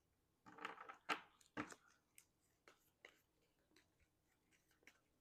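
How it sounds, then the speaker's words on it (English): Marvel Champions playing cards being shuffled, a few quick riffling bursts up front followed by softer scattered card ticks and slides, close and quiet, with no talk over them. "Try to get a really good shuffle here."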